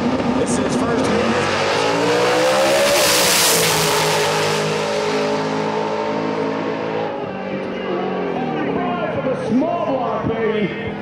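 A drag racing car with a 434 small block engine and three stages making a run at a drag radial event, loud roaring acceleration that rises, peaks and fades into the distance, under continuous commentary.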